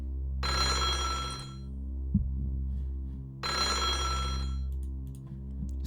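Telephone bell ringing inside the video game Kirigiri Sou: two loud, bright bursts of electronic ringing separated by a pause, over a steady low hum, with no talking.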